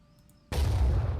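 The Hell Cannon in the video game Phoenix Point fires once: a single loud, close boom that bursts in after a quiet moment and rumbles on heavily for most of a second.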